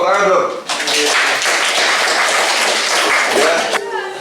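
A seminar audience claps together for a few seconds, a full burst of many hands that starts abruptly after a speaker's voice and fades as talking resumes at the end.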